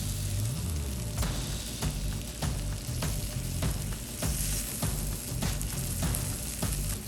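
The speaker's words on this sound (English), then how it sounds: "Lay it right here for a nice sear." Lamb chops sear in a hot pan with a continuous, loud sizzle and frying hiss, punctuated by regular sharp clicks and taps from the pan or utensils, with no talking.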